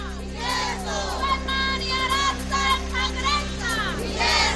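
A crowd of MNS party workers and office-bearers celebrating in Thane, with many voices shouting and chanting together in a continuous, loud outdoor din over a steady low hum.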